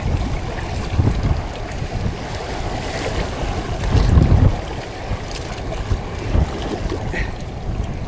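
Big sea waves and gusting wind surround a small fishing boat on open water during a strong northeast monsoon, a steady loud roar of wind buffeting the microphone with heavier wave surges swelling midway, no talking.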